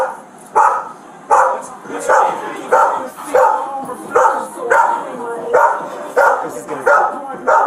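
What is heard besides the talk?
dog barking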